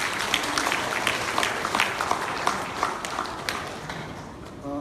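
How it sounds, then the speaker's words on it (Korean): Applause from an audience at a Korean literary forum, a crowd clapping fairly close and loud, with uneven claps that taper off near the end. "박수 한 번 더 쳐주십시오."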